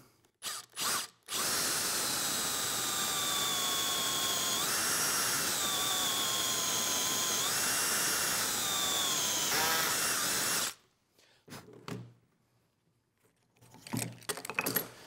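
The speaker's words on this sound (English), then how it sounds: "Then I'll use a Forstner bit in a drill here and just drill down." A power drill with a Forstner bit whines at steady high speed for several seconds boring into wood, its pitch dipping briefly under load, then stops, followed by light handling clatter.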